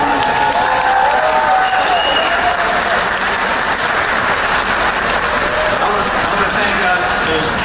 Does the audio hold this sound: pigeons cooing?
no